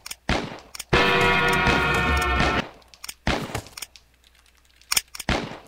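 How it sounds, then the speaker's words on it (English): Gunfire in the Western video game Westerado: scattered sharp shots, one long burst of rapid fire, then more isolated cracks spaced a second or two apart, loud and close with game sounds between. "He shot my hat."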